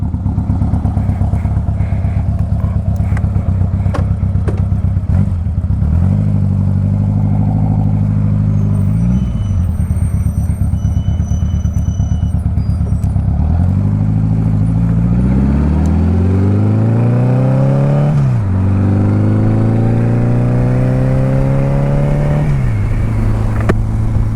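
A motorcycle engine on the move, loud and close, climbs repeatedly in pitch through the gears and drops at each shift, running steadily with no talk.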